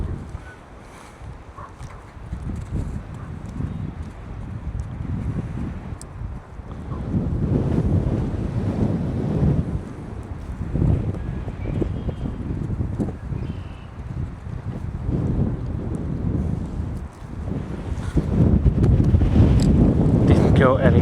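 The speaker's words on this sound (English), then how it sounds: "pretty windy." Strong wind sweeps across a pond whipped into whitecaps, a loud continuous roar of microphone buffeting with surging gusts and lapping water, and a voice speaks briefly beneath it.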